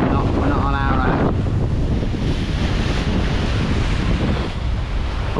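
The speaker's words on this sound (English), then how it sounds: "Quite windy." Strong wind at sea while lure fishing a deep water mark from a boat, a loud constant roar buffeting the microphone over rushing waves, with a brief voice heard at the start.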